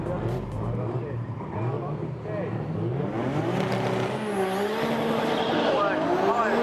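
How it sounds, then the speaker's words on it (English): A Japanese drag racing car's engine roars and rises steadily in pitch as it accelerates hard on a solo run, loud and continuous, with a commentator talking over it. "the final in street is going to be a solo run for Brent Crooks."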